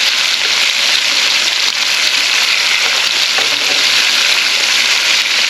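Chicken dumplings frying in a pan, a loud, steady, close sizzle that fills the whole moment without pause or voices.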